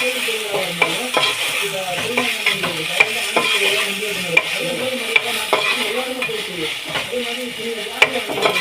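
Tomatoes and two green chilies sauté in a pan, a loud close sizzle broken by a quick rhythmic run of scraping stirs and spoon taps against the metal, no talking.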